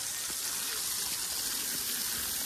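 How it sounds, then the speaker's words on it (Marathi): Water trickles steadily into a pot set under a seep inside Ganpati Gadad cave, a continuous, even splashing hiss with no voices. "पण इथं पातेलं ठेवलंय पाणी साचण्यासाठी."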